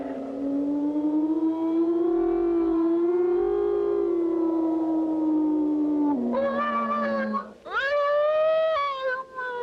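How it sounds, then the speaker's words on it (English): A long, wavering howl of wind around a castle tower rises and falls steadily, then shifts into higher, warbling siren-like wails near the end. "Must be the wind blowing around the tower."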